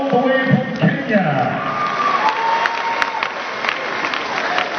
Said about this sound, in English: Please another round of applause for Professor PLO Lumumba